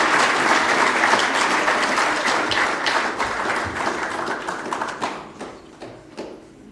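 Applause from the audience at an annual memorial lecture, a broad wash of clapping that thins into scattered individual claps toward the end, no voices over it.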